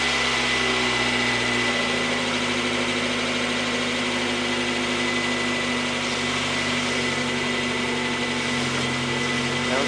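A Mazda Miata engine runs at a steady idle right after a timing belt and water pump replacement, with an even mid-pitched hum and a faint mechanical whine. It is loud and close, with a slight change in tone early on and no talk.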